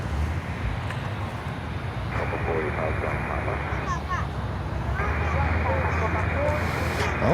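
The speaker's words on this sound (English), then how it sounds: "China Airlines Cargo coming in with a 777 from Los Angeles, California." China Airlines Cargo Boeing 777 arriving at Miami Airport from Los Angeles, a continuous rushing engine drone at moderate distance with a faint whine layered in partway through, and talking heard beneath it.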